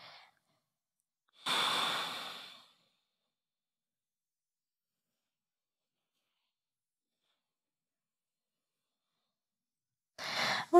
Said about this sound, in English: And take two more breaths here.